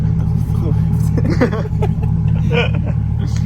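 A Chevrolet C8 Corvette fitted with a ProCharger supercharger hums with a steady low engine drone throughout, with people talking over it nearby.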